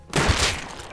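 A single close, heavy gunshot from the video game Rust, a sharp blast followed by a short fading rumble and echo.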